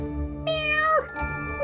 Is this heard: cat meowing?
yes